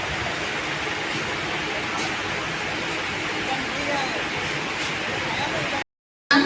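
A fast 15-car local train bound for Kalyan pulls into a station platform, a loud, steady broadband roar and rumble that carries on throughout before a brief dropout near the end, with what seems a public-address voice underneath.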